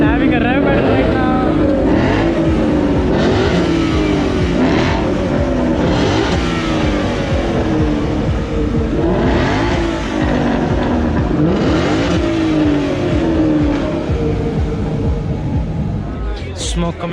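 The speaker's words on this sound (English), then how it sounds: "We are having a rev battle right now." Car engines, including a Mustang, rev loudly and repeatedly in a rev battle at a car meet, with rising and falling engine notes and crowd noise around them.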